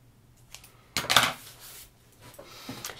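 Scissors trim the yarn skirt of a pom-pom peg doll in one close, crisp snipping burst, followed by softer rustling and faint handling noises.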